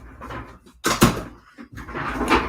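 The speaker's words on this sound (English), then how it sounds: "just closing my door in the background" A door in a house is closed nearby with a thud, and a second knock or bump follows, amid soft shuffling room noise.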